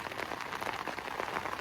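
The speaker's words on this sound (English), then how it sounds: "rather rainy day over at Abbotsbury on Chesil Beach" Rain falling at Abbotsbury on Chesil Beach on an overcast day, a soft steady patter with faint droplet ticks, close but quiet and brief, without talk.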